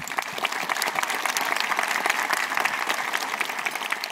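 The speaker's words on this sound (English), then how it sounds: "Let's give a round of applause to Stina." An audience at a BSidesSF 2019 security conference talk claps steadily, a dense, even wash of many hands that holds at a constant level throughout, with no voices heard over it.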